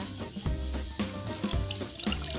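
Plain water runs and splashes into a pot for making agar jelly, a short burst of flowing, bubbling water heard up close at low volume.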